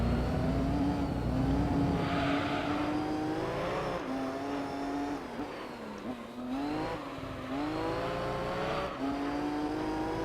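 A 609-horsepower racing car's engine in Gran Turismo 3, a loud, sustained whine that rises and dips through gear changes and corners, with a brief lift off the throttle near the middle.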